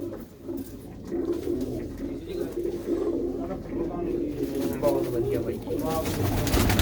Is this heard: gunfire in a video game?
no